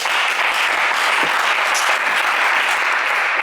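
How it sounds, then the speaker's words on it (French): A French television game show studio audience applauds a contestant, a steady dense wash of clapping filling the whole stretch at close, even loudness with no talk over it. "Angélique, on vous applaudit bien fort."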